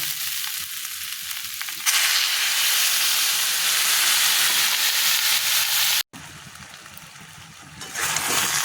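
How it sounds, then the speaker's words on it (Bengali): Spiced potatoes for aloo dum sizzle loudly in a hot pan, a dense, steady frying hiss that drops out for a moment, then comes back as the pan is stirred. "এবার একটু নেড়ে চেড়ে এবার অল্প একটু জল দিয়ে নেবো"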